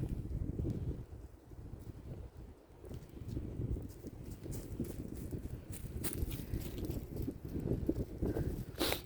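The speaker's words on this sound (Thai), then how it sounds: "ลมแรง" Strong wind blows outdoors on a cold day after snowfall, buffeting the microphone in a steady low rumble with gusts and scattered clicks and rustles throughout.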